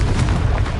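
Confringo blasting spell going off in Hogwarts Legacy, a short, loud, dense burst of fiery explosive noise with a rumbling low end, heard alone without talk.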